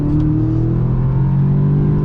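A Stage 1 Ecotune-tuned Audi S3 engine holds a loud, close droning rev after a gear downshift, a steady low rumble with strong tonal hum throughout.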